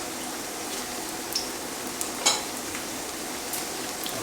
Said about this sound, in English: I'm going to take a poke at the meatballs. They're sizzling up.